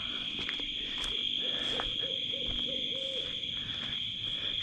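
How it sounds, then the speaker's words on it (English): At night near a steel RV under rebuild, an owl hoots far off in the background in a short repeated series, softly under a steady high insect drone. "Got an owl, I think, off in the background."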